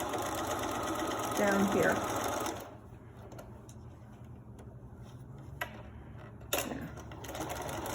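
A sewing machine stitches a second row along a fabric face mask, its rapid mechanical whirr loud and steady for a few seconds before stopping. Faint clicks and handling sounds follow while a person speaks briefly.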